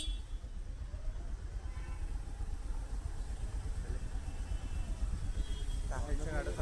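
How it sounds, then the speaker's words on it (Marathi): Street traffic outside Siddhivinayak Temple makes a low, steady rumble of passing cars and motorbikes, moderately distant, with a brief chirpy sound near the end. "मंदिराच्या बाहेर ट्रॅफिक तुम्ही बघू शकता."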